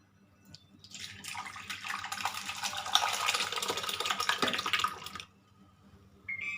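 Hot fried chilli seasoning is poured over a milk-based curry, giving a close, steady splashing and sizzling hiss that lasts several seconds before stopping abruptly.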